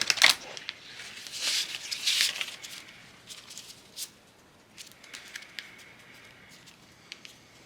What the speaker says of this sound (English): I'll shuffle them here once or twice.